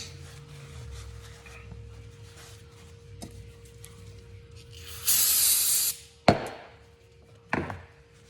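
Brake cleaner is sprayed onto an automotive AC line in one steady, close hiss of about a second, followed by a sharp clank and a softer knock against quiet background noise.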